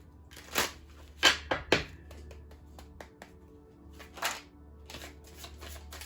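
Tarot cards are shuffled from a big, heavy deck in a few quick riffling bursts, with crisp card flutters and slaps close by between quieter handling, and no talk over it.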